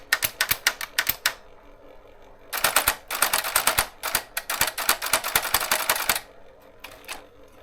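Olympia typewriter typing close up: fast bursts of crisp key strikes, with a pause between bursts and a longer run in the middle, then a few final clacks.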